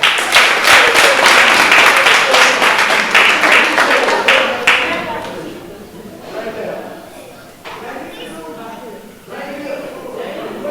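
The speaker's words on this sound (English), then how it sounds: "One more round of applause." Audience at a family reunion gives a round of applause, dense clapping filling the first few seconds, then fading into scattered claps and crowd murmur with people talking.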